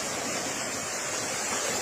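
Water rushes through a roadside culvert, a loud, steady broadband roar of flowing water heard close by without pause.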